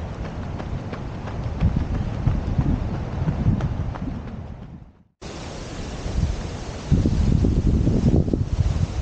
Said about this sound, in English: that's the waves of Lake Ontario just pummeling the shore right now